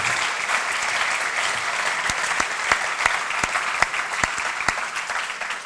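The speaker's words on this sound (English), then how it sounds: "let's give them all a round of applause one more time" Audience applause at an evening celebration in Chicago honoring leaders, a steady wash of clapping from a sizable crowd with sharper individual claps popping out, sustained throughout at even loudness.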